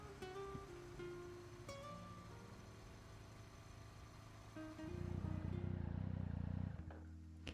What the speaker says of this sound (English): The motorcycle finally comes to a stop beneath a platform on a hillside terrace in the N109 zone.